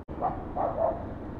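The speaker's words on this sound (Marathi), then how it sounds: "हा कुत्रा बघितला त्या कारच्या मागे कसा लागला" A dog barks a few times while chasing a car near a hill station road. The barks are moderately close, with a steady engine-like rumble underneath.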